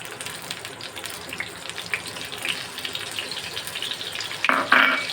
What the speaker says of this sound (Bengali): এবার আমার এই যে আদা রসুন পেঁয়াজ যে বেটে রেখেছি সেই মশলাটা দিয়ে দেবো।